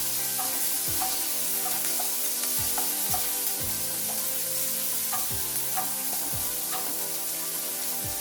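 Chopped onion sizzles steadily in a pan over medium flame for a Bengali prawn malai curry, with repeated scraping stirs cutting through the constant frying hiss, close and fairly loud, no voices.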